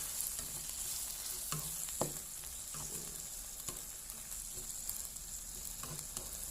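Asparagus and pork stir-fry in a pan with a steady sizzle, broken by several sharp clanks and scrapes of a spatula against the metal, close and with no talking.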